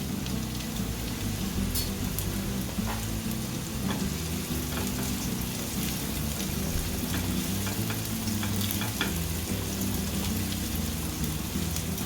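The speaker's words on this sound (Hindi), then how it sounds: "दो 3 मिनट हम इसे अच्छे से भून लेंगे, थोड़ा अदरक गुलाबी हो जाए।" Green chillies and ginger sizzle in hot oil in a pan, a loud, steady crackling fry with scattered pops and the occasional stir.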